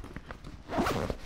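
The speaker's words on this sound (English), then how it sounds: "The zipper on the external laptop sleeve actually leaves a slot." Zipper drawn along the external laptop sleeve of a Lululemon Everywhere-style 22L backpack, a short scratchy run heard close up and fairly quiet, with a few light handling taps before it.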